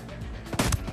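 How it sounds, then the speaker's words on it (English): Gunfire in Ghost Recon Breakpoint: two quick, loud shots crack out close together over low game ambience. "Oh, that was a shot."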